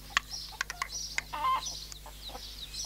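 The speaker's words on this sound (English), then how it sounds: "Come on, chicken. Good chicken. Here, chick, chick, chick." Chicken clucking in short bursts, a rapid series of sharp, fairly close calls over a steady low hum, no one talking.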